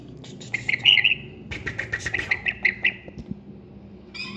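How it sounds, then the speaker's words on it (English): A pet bird chirping and squawking in a room, a run of bright, repeated calls close by, fairly loud, with brief pauses between bursts. "happy bird!"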